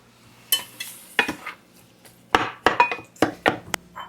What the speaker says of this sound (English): you mix this until it turns into a paste